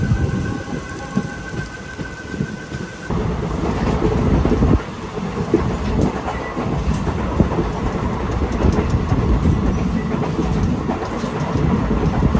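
The 13174 Sabroom–Sealdah Kanchanjunga Express runs along the rails with a loud, continuous rumble and clatter of wheels, steady throughout with no talking.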